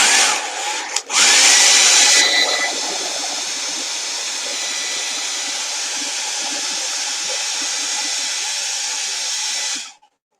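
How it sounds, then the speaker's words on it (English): An electric hair dryer whirs loudly and steadily at close range. A clatter and a higher surge come near the start. It then settles into a constant airy hum for about eight seconds before shutting off abruptly. "I'm going to turn on my hair dryer so it'll make noise."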